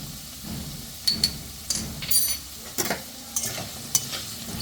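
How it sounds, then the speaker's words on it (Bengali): Potato pieces fry in hot oil with turmeric added for colour, a steady sizzle broken by sharp, irregular scrapes and clicks of a spatula stirring in the pan, close and fairly loud. "আলুটা আমার ভাজা হয়ে গেছে খুব সুন্দর করে"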